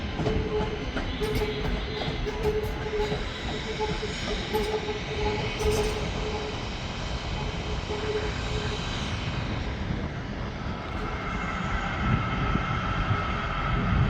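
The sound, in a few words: Northern train leaving Manchester Piccadilly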